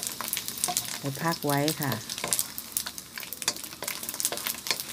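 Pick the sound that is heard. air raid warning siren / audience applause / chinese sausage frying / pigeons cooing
chinese sausage frying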